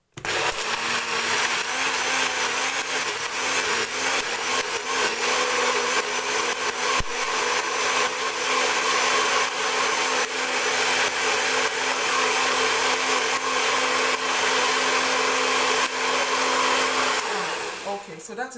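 A kitchen blender runs continuously at high speed while blending tiger nuts, a loud steady whirring roar that holds for most of the time before cutting off near the end.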